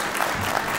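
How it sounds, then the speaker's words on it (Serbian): Audience applause at an accordion master class, a steady wash of clapping from a group that holds level through the whole short stretch. "može još jedan aplauz za."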